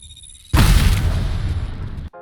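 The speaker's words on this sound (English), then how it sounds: "Arc star out. There goes me arc star." An arc star grenade from Apex Legends detonates in a single loud, sudden blast, followed by a sustained crackling electric roar that cuts off abruptly, close and alone over a quiet game ambience.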